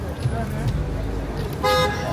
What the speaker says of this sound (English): Lots of street traffic, though.